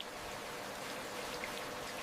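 Rain falls steadily during floods in Taibak, a dense, even hiss of drops on surfaces that continues unbroken with no voices.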